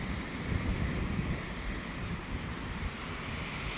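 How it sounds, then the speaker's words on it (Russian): Stormy sea surf roars steadily on a beach at sunset, a dense continuous wash of breaking waves with gusting wind noise on the microphone, loud and close throughout with no voices. "А море все бушует, все неспокойно."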